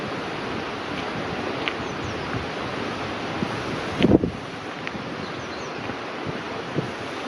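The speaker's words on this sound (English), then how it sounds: "the rush of the river." A river rushes steadily in the early-morning countryside at Newcastle Emlyn, a broad continuous hiss of flowing water mixed with wind buffeting the microphone, with one brief louder thump midway.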